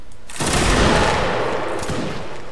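A regiment of muskets fires a single loud volley in a video game, a ragged crack of many shots at once that rolls into a long, echoing rumble.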